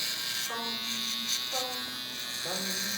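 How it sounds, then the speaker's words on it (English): An electric hair trimmer buzzes steadily and close up while cutting a kid's hair during a mid fade, its drone continuous throughout with a voice talking over it. "this trimmer is just eating through this hair"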